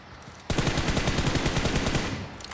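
Automatic gunfire in PUBG Mobile, a loud, steady rapid burst of evenly spaced shots that starts abruptly and runs for about two seconds before cutting off, with no talking.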